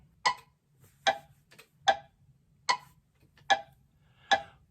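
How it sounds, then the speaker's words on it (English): Sharp woodblock-style metronome clicks in 3/4 time with the accent on beat one, six evenly spaced beats at a steady moderate tempo, crisp and close with a faint low hum underneath. "The metronome is on a 3/4 time signature with the accent on beat 1 with a woodblock sound"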